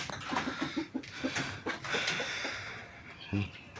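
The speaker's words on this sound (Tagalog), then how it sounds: "Yan yung mga manok ko." Backyard chickens cluck in short, scattered bursts close by in a parking area while a person talks over them.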